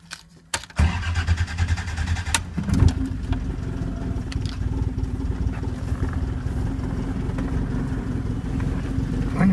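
A car engine cranks and catches after a couple of brief attempts, then settles into a steady, rumbling idle that runs on loudly and close by.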